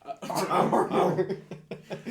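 A voice imitates a dog's bark in the style of a rapper, gruff barking bursts close up amid laughter and talk, with a few short sharp yaps near the end.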